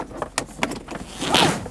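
Zipper pulled open on a new luggage suitcase, a rasping zip that builds from a few short tugs into a longer, louder close-up run.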